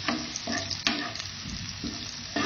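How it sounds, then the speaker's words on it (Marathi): Crushed garlic frying in hot oil after cumin seeds crackle, a close steady sizzle broken by a few sharp stirring scrapes of a spoon in the pan. "जिरे तडतडल्यानंतर लगेचच लसूण भरपूर वापरायचं आहे या भाजीला"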